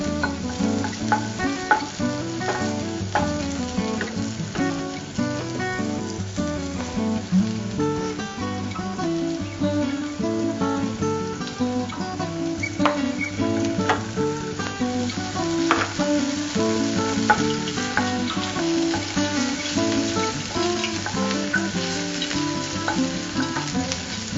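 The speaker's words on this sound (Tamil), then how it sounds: "நல்லா பூண்டு வதங்கிடுச்சு" Garlic and ginger-garlic paste sauté in hot oil for prawn pakoda, a steady, moderately loud sizzle with frequent stirring scrapes running throughout, over a constant tonal background.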